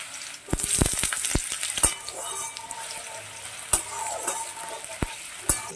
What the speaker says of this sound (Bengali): আলুগুলো আমি ভেজে নেব ভালো করে।